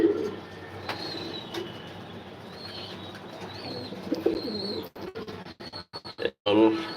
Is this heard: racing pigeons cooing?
yes